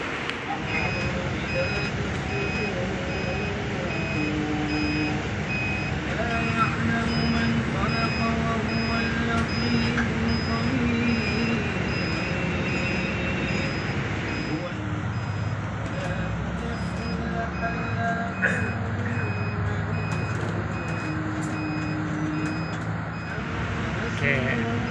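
A chartered bus near Jarwal sounds repeated high reversing beeps while waiting to depart. The beeps come through steady engine rumble and surrounding street noise, with people talking nearby.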